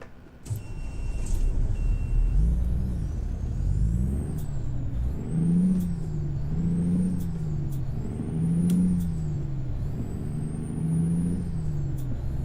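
Volvo VNL truck in American Truck Simulator, a steady engine drone with repeated short air brake hisses and high whines over about twelve seconds, loud and close, no talk.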